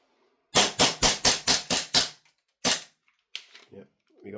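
An EMG Staccato CS 2011 gas blowback airsoft pistol fires BBs in a rapid string of seven sharp, loud cracks, then a single further shot, followed by fainter mechanical clicks and handling noise.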